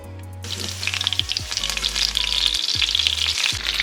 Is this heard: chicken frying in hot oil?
yes